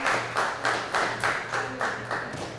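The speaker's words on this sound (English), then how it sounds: "the crowd again coming alive behind both competitors here" Crowd clapping at a wrestling main event, in a rhythmic run of about eight even claps, fairly close and without talk.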